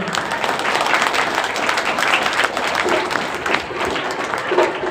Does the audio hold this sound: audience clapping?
yes